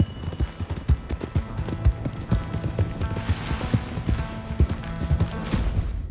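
Hooves of a Mustang horse clip-clopping in the video game Red Dead Redemption 2, a steady, fairly loud rhythmic trot of sharp hoof strikes that continues throughout with no talking.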